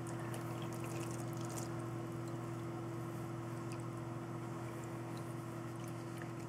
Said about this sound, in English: so let's just pour more liquid in here.